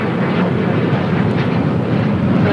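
An Alaska Airlines Boeing 737-900ER jet airliner taking off from runway 25 left at LAX, a loud steady broadband engine roar, sustained and powerful throughout with no talking.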